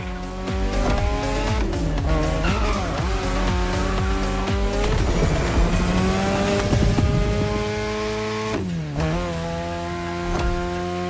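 A car drifts through sharp turns in the video game The Crew Motorfest, its engine revving loudly and continuously while the tires squeal through long, wavering skids.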